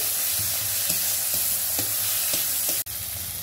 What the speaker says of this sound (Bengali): টমেটো কুচি দিয়ে আমি নেড়ে যখন তেল ছেড়ে দেবে